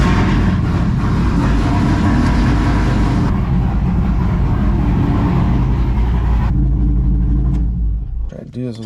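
A car engine rumbles heavily and steadily at close range for several seconds, then the sound drops away and winds down near the end.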